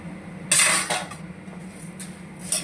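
Puffed rice tossed with ground cumin, coriander, chili, turmeric and black salt in a pan, heard as a few sharp metallic clinks and rattling scrapes of a spoon against the pan over a quiet background.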